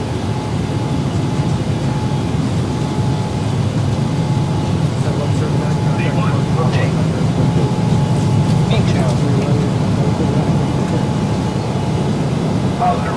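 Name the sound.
airliner taking off in Microsoft Flight Simulator video game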